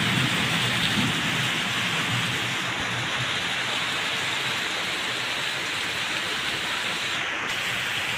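Heavy Kalbaishakhi storm rain pouring steadily and loudly on surfaces, a dense unbroken hiss with no talk.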